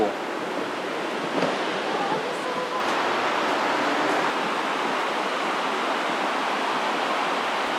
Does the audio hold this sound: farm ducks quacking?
no